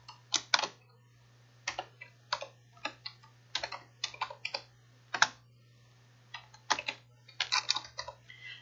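Keys on a computer keyboard clack in irregular short bursts, close and fairly quiet, over a steady low hum, with no talking.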